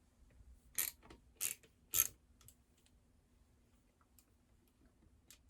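Screws being removed from a McCulloch Super Pro SP 125 chainsaw during a teardown, with three sharp close clicks or ratchet-like clacks in quick succession, followed by faint scattered ticks in a quiet room.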